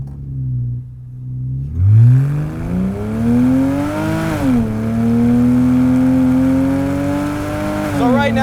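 Modified Porsche Cayman with a naturally aspirated flat-six, engine climbing in pitch through a smooth rising wail, dipping briefly, then holding a sustained high rev, close and loud.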